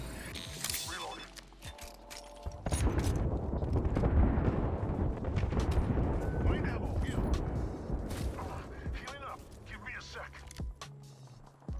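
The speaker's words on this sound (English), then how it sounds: "Airstrike." Airstrike explosions in the video game Apex Legends, a run of heavy booming blasts rumbling loud and dense for several seconds amid gunfire-like cracks.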